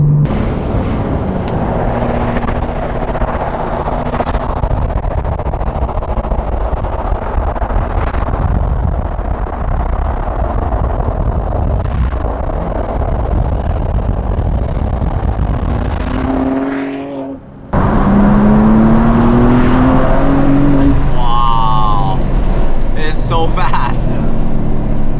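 An S58-powered BMW M car accelerates with a loud, sustained engine roar that drops out briefly and then returns with rising revs, while people talk over it.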